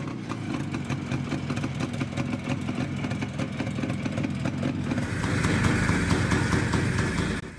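A 1950s German Adler 250cc motorcycle engine runs steadily and smoothly with a dense mid-low drone and fine texture, holding an even level before growing a little fuller and rougher toward the end.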